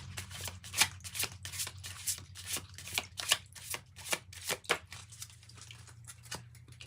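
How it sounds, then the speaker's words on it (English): A deck of Archangel Raphael oracle cards is shuffled close by, a rapid run of crisp riffling flutters and slaps that eases off toward the end. No one speaks. "I'm going to pull one of these Archangel Raphael cards"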